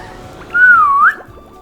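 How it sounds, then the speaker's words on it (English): A single clear whistle from the video game SpongeBob Battle for Bikini Bottom Rehydrated, a smooth half-second tone that dips slightly then rises at the end, loud and alone against faint background. "That was a good whistle."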